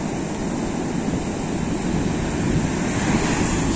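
Sea waves breaking on the beach by the pier at Eforie Nord on the Romanian coast, a steady, loud roar of surf with wind noise buffeting the microphone throughout.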